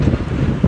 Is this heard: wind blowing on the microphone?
yes